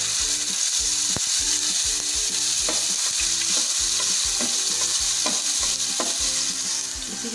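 Ginger garlic paste goes into hot oil in a pan where onions were fried for lobia biryani, and it sizzles steadily and loudly while a spoon stirs and scrapes in a repeating rhythm throughout.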